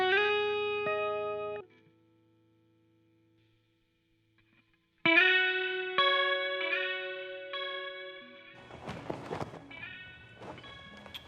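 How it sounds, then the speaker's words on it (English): Electric guitar passes through a Fox Echo chorus plugin in Ableton Live: shimmering, doubled chords ring out, stop for a few seconds of near silence, then return with more strummed notes and a noisier, textured tail. "Now let's drop this Fox Echo chorus on here, which I'm super excited to try because I love a good chorus on my guitar."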